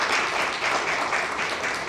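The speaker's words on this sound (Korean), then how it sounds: "우리 다시 한번 박수 한번 드립니다." Congregation applauding at a Christmas church service: a dense, even wash of many hands clapping together, sustained for a couple of seconds at a moderate, fairly distant level.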